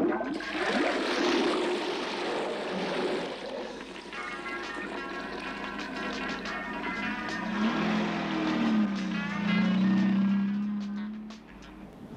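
A toilet being flushed over and over, water rushing and gurgling steadily through the bowl and pipes for several seconds, heard from nearby with no talking.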